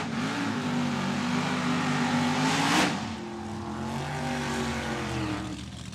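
Supercharged Duster and a Mustang nitro funny car racing side by side in drag qualifying, a loud sustained engine roar that swells to a peak near the middle then eases into a steady rumble.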